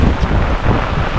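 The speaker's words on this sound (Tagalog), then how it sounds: "Yan po yung ulan, oh. Lakas." Heavy rain pours down over a fish pond, a loud, dense roar with rough gusty rumbling throughout, close and steady with no talk.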